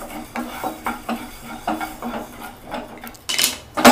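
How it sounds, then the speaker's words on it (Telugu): Coriander seeds dry-roast in a pan on the stove, stirred with a rhythmic series of rattling scrapes and clinks about every half second, growing louder and busier at the end. "ఇప్పుడు స్టవ్ మీద ఒక పాన్ పెట్టుకొని ఫస్ట్ ఈ ధనియాలని వేయించుకుందాం."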